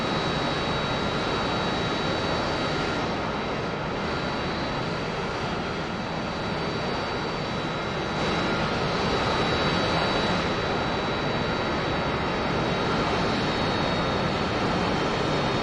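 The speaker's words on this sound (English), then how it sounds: "That's Laxor in the Harrier" Harrier jet in flight in a combat flight-simulator game, a loud steady engine roar with a constant high whine running unbroken throughout, with no talk.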